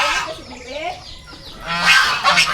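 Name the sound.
geese honking at the side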